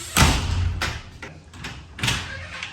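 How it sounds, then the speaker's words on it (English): An Arctic Tern Wildlands door on a vehicle being closed: two loud, near thuds about two seconds apart, each with a short rattle, and softer clunks between them, with no voices. "closing the door."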